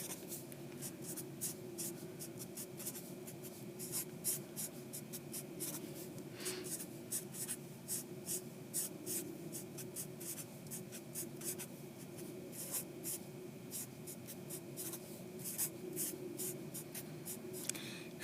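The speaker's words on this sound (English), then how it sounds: "So I'm just going to write this each time, and I put parentheses wherever the variable is." Marker or chalk scratches on a board during a math lesson, a long run of quick, rhythmic strokes and taps over a low steady hum, with no one speaking.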